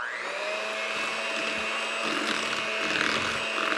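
Keto almond biscotti dough being mixed, heard as a steady, close mechanical whir with a constant hum and slight wavering strain throughout, with no talking.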